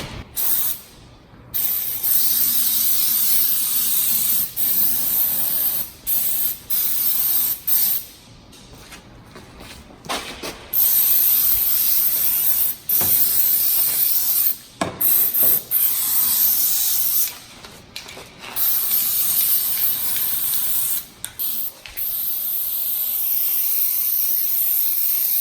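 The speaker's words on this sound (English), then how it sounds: "So basically you want to spray anything that you're worried about getting rusty." Long hissing bursts of rust-proofing oil spray under a car come in repeated pulses with short pauses between, close and loud, with occasional clicks of the nozzle.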